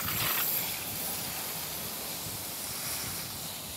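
A garden hose with a fireman nozzle sprays onto a car wheel of a Mustang SN95, a soft steady hiss of rushing water with a brief louder burst at the start.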